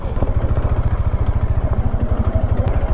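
Yamaha R15 motorcycle engine chugging steadily up close at low revs while descending a steep, rocky dirt slope near Narsinghgarh Fort, a loud rhythmic thumping pulse throughout with faint clatter on top.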